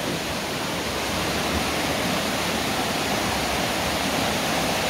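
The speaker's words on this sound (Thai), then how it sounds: "ขาออกน้ำตกก็จะอยู่ขวามือเรา" Chet Khot waterfall in a forest pours in a steady, broad rush of falling water, constant and moderately loud throughout with no voices.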